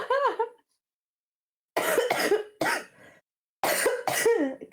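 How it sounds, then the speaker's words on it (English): A streamer coughs several times in short, hoarse bursts, with pauses between clusters, close to the microphone in an otherwise quiet room. "We got the coughing ASMR."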